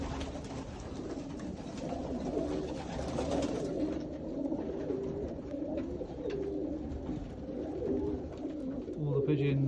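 Pigeons coo steadily inside a young bird loft, a continuous layered murmur of many birds with soft rhythmic coos throughout, while a person speaks faintly underneath.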